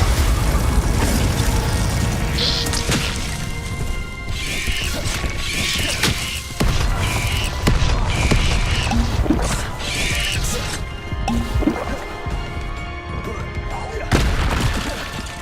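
Confringo fire-blast spells from Hogwarts Legacy go off as repeated booming bursts, several sharp impacts scattered over a dense, constant bed of game music and ambience.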